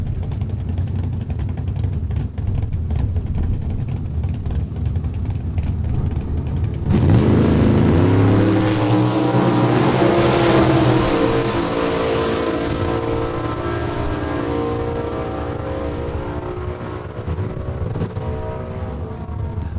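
A Duster drag car roars to life at a Saskatchewan International Raceway points race in Saskatoon. A loud engine blast and rising rev cut in sharply over steady background rumble, then trail off as the car pulls away.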